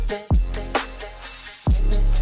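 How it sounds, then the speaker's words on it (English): A mix swells into a heavy reverb wash as a music transition, with sustained tonal layers and a few sharp low hits that bloom and decay, ending on a full, dense chord. "I decided to transition into the next section using Andrew's new plugin Transit."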